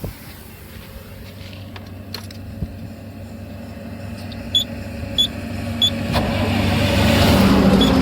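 A car engine left running at idle gives a low steady hum, close and constant, with faint clicks and a slowly rising rumble toward the end.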